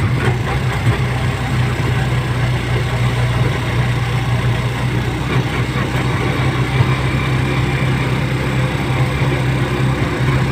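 A motorcycle engine idles steadily and close by with a low, even rumble that holds without a break, while no clear talk sits over it.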